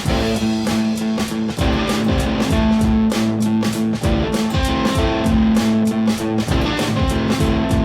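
An electric guitar strums a rhythmic blues chord progression with an added IV chord, with a steady beat, loud and up close, no voices.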